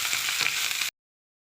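Tempering for tomato pappu: mustard seeds, cumin, curry leaves, garlic and ginger sizzle in hot oil, a close, steady bright hiss with faint crackle for under a second before cutting off abruptly.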